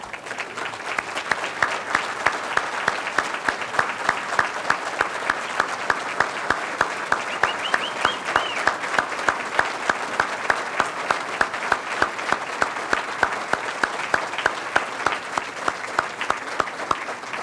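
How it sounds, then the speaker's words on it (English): Sustained applause from an audience at a regional chamber educators-of-the-year awards event, steady dense clapping honoring standing winners, loud and continuous without talk. "I'd like everybody to give them one round of applause and say thank you."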